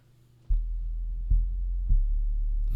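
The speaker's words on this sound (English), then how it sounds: "Let's go with a sub bass." A deep synthesized sub bass tone from a keyboard while composing music, struck three times and sustained as a steady low rumble, fairly loud and alone.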